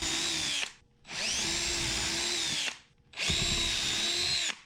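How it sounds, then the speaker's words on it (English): A power drill pre-drilling screw holes for hinges on a Mazda5 camper conversion, three sustained high whirring runs separated by short pauses, loud and close with no talking. "I pre-drilled every hole for the hinge."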